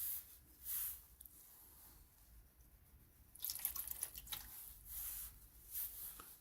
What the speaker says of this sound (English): Let's wash it off again.